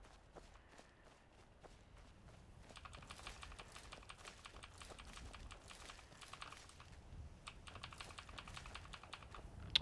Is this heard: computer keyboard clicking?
yes